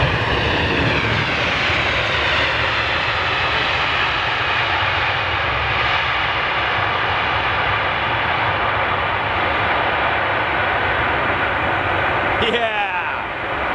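Air New Zealand Boeing 777 jet with GE engines, a loud, steady broadband roar filling the whole clip as the airliner passes close by, with a brief rattling burst near the end.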